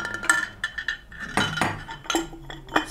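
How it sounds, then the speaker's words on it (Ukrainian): A glass lampshade on a FREYA 38573 pendant light is fitted back into place, giving a run of light glassy clinks and taps in quick irregular succession, close and clear with no talk. "встановили скло на місце"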